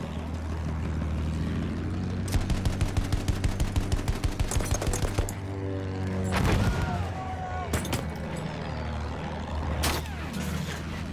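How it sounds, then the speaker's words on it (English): In Battlefield 1, a rapid rattling burst of gunfire runs for a few seconds amid heavy rumbling battle noise, followed by loud booming blasts and scattered shots, close and intense. "I think I have a tank shooting at me again"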